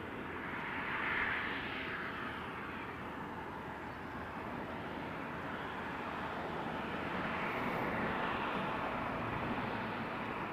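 Jet airliners at Toronto Pearson Airport, a continuous broad roar of engines that swells gently and holds steady for the whole stretch, heard from a distance outdoors.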